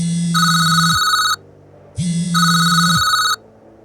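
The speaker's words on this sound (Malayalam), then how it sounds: "ഫോൺ ശബ്ദം വീണ്ടും ഉയർന്നു" A telephone rings twice in a regular pattern, each ring a bright electronic tone lasting about a second, separated by short silences.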